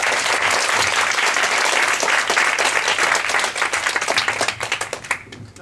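Loud, sustained applause from a seminar audience welcoming a speaker at a sports science lecture, dense clapping filling the room before thinning and tapering off toward the end.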